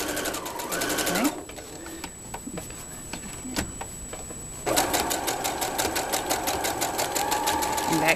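A sewing machine stitches a Christmas stocking in fast, even rattling runs, stopping briefly in the middle before starting again, loud and near, while voices speak during the pause.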